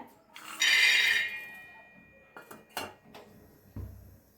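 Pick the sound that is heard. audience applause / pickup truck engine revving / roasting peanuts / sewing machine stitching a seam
roasting peanuts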